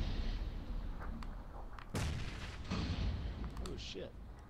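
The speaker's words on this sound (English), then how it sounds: "Throwing frags. That was me." Frag grenade blasts in the battle royale game PUBG, two heavy booming bursts about a second apart over a dense rumbling game backdrop, with voices talking around them.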